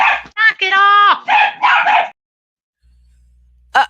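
A dog barks and yips several times up close, a drawn-out whine among the barks, then silence before one more short bark.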